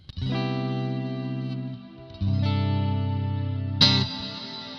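Sustained clean guitar chords from a Fender Tone Master Pro ring out bathed in heavy, shimmering reverb, washing together in long swells with a brief gap between strums.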